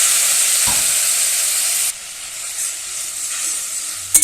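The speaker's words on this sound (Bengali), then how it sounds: "তেলে ভেজে নিয়েছি এরপরে দিয়ে দেবো জল" Water poured into spices frying in hot oil for a potato-and-pointed-gourd curry, a steady loud sizzle that drops to a softer bubbling hiss after a couple of seconds, with brief clatters of stirring near the end.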